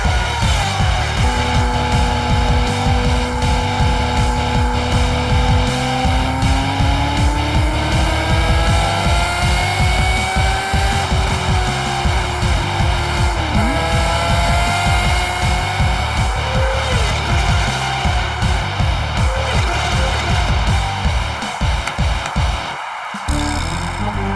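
Cartoon motorcycles roar through a race as the biker character arrives, a steady loud engine drone with rising and falling revving pitch sweeps, continuous for over twenty seconds before a brief dip near the end.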